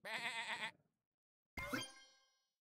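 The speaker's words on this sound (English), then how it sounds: "Oh, they have a sheep." A cartoon sheep bleats once in the Super Auto Pets video game, a short wavering bleat followed after a pause by a bright chiming game tone that rings out and fades.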